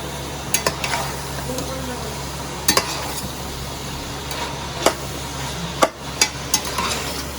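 Vegetables seasoned with fish sauce sauté lightly in oil for pansit under a steady sizzle, with scattered sharp clanks of a utensil against the pan.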